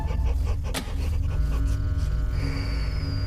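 A dog pants hard and snorts, its heavy breathing loud and close throughout with no clear bark, inside a house where the power had been cut from outside.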